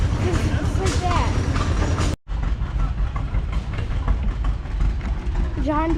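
An antique John Deere L or LA tractor engine runs steadily at a vintage machinery show, a loud continuous rumble that cuts out briefly, with people talking nearby over it.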